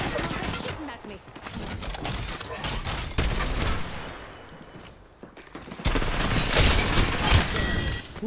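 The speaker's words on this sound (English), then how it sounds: "Someone's shooting at me." Gunfire in the video game Apex Legends: dense, sustained bursts of rapid shots and impacts with a brief lull in the middle, then heavy firing again, loud and continuous.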